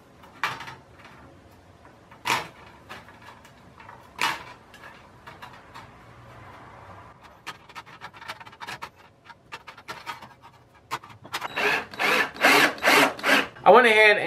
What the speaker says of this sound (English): I went ahead and got all my holes drilled